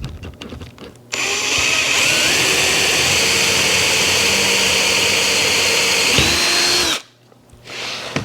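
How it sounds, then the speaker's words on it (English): A power drill bores through a homemade wooden sawblade held by hand without clamps, a loud steady whine lasting about six seconds with a rising pitch near the end before stopping abruptly. "hopefully if I just hold it in place and send a drill bit down through it"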